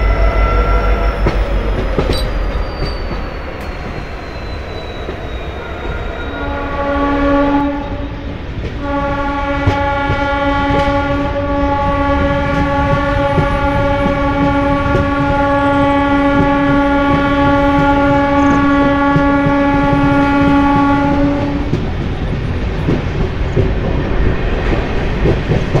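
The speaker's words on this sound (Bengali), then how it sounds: "আদ্রা ছেড়ে বেরোতে বেরোতে WDG-4 সাথে দেখা" A Howrah–Purulia MEMU local train runs with steady wheel rumble and clatter while passing a WDG-4 diesel locomotive near Adra, and a long, loud, sustained horn blast sounds over the rolling noise.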